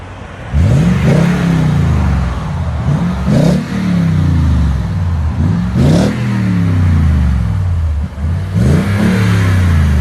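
A 2021 Toyota Tundra 5.7L V8 fitted with a TRD Pro true dual exhaust revs loudly and close, with four deep throttle blips rising and falling in turn.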